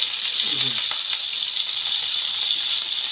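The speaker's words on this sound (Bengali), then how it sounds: "এই যে আমার মশলাটাকে ভালো করে তেলের মধ্যে কষিয়ে নিয়েছি" Spices, ginger paste and onions fry in hot oil in a pan, a steady close hissing sizzle with a faint clink of a utensil early on.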